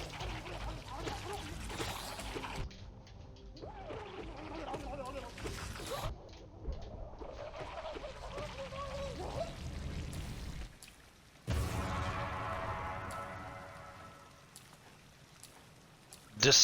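A character wading through water in Hollow Knight, soft splashing and dripping pours over murky game ambience, with a burst of sloshing near the end while a voice talks over parts of it.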